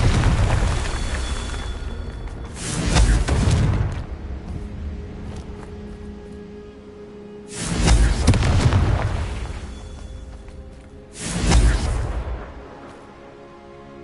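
Confringo fire spell blasts in the Hogwarts Legacy video game: three loud booming explosions a few seconds apart, each a broad roaring burst that decays into rumble, over a low continuous game background.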